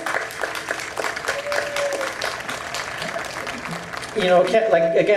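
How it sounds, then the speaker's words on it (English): Relay For Life event crowd applauding outdoors, a broad spread of clapping running under a voice and music, with a louder burst of sound near the end. "So give yourself an applause."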